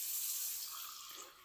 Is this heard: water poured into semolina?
yes